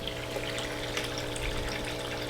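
Water sloshes and gushes steadily as a tiny baby sturgeon is lowered into its new outdoor fish tank, a continuous close liquid wash with no speech.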